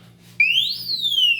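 A Fortress RFID gun safe alarm goes off after a wrong code is entered, a loud, piercing electronic tone that sweeps upward, then slowly glides back down. A faint low hum sits underneath.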